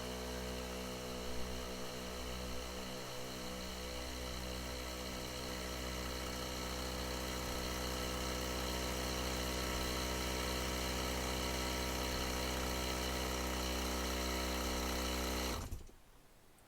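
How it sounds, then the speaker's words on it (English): A vehicle's air suspension pump runs steadily, a loud buzzing mechanical drone with a rich harmonic whine, holding constant for about fifteen seconds while it inflates the system to 75 PSI, then cutting off abruptly. "you've got the button to engage that air pump. I'll just inflate it to its maximum PSI, which is 75 for this system."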